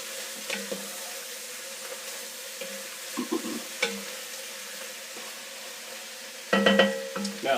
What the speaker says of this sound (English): Alright, putting the beef back in. Stir that all around.